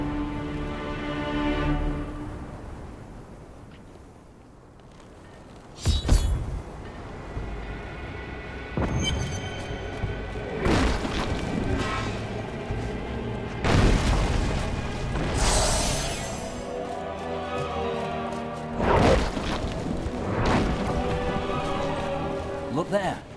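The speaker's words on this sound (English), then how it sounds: "Now I go to the battlefield, where Asmodan's war machines bombard our scattered soldiers." Siege war machines bombard a battlefield in Diablo 3, with heavy booms and blasts erupting every few seconds over a rumbling backdrop of combat and voices.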